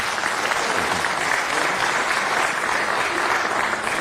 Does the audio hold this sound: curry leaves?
no